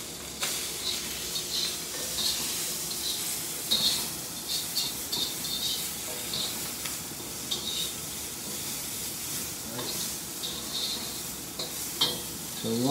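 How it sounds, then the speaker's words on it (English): Green beans frying in hot bacon fat give a loud, steady sizzle with crackling pops and occasional stirring scrapes throughout, close and continuous with no voices. "So let's put these green beans right in."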